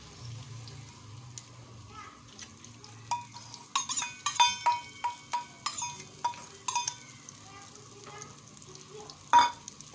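Egg omelette batter hits hot ghee in a pan with a soft, steady sizzle. A run of rhythmic clinks from a utensil follows, then one sharper knock near the end.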